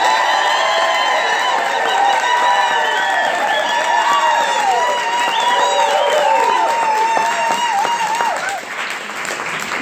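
Enthusiastic audience applause and cheering at a live radio broadcast show, dense clapping with whoops and shouts sustained for several seconds before easing off.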